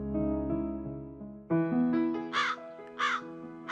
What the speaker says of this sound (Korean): 저기 하늘을 나는 까마귀가 보이지?